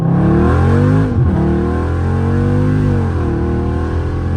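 A Dodge Charger Scat Pack accelerates hard from a rolling start, its engine roaring loud and close with rising pitch, a brief gear change, then climbing again.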